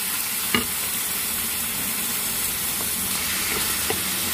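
Choy sum stir-fried in a pan with abalone: a steady, loud sizzle and hiss of frying, with a few sharper clinks and scrapes of stirring, and no talking.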